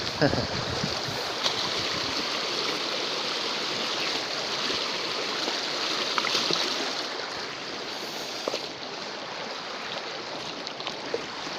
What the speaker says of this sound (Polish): Mam nadzieję, że ten szum wody nie wygoni Was do toalety.